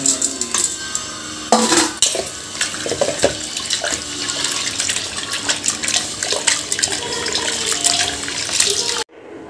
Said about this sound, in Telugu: విసికిన దాన్ని ఇప్పుడు వాటర్లో వేసి కడుక్కోవాలి.